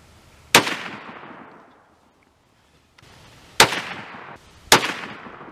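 Three sharp rifle shots from a 300 Blackout firing Hornady 100-grain short-jacket bullets over H110 powder at a 35-yard range, each a loud crack with a decaying tail, spaced unevenly over a few seconds outdoors.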